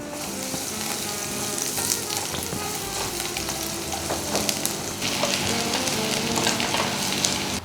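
Four crushed garlic cloves frying in a tablespoon of oil for a vegetable meatball soup, giving a steady, close sizzle with crackling pops that holds throughout, with no voices.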